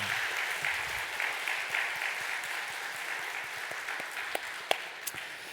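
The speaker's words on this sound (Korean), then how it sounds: "응원과 격려와 사랑과 칭찬의 박수를 한번" Church congregation at a Sunday service giving a round of applause, a broad, moderately soft wash of clapping that thins toward the end, leaving a few sharp individual claps.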